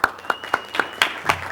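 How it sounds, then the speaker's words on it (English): At a school board meeting, a small group gives brief applause of a few separate claps spread over a second and a half, thin and fairly quiet. "applause to you"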